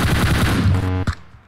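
Rapid automatic gunfire from PUBG Mobile rattles out in a dense, loud burst for about a second, then stops with a short trailing crack and a fading tail.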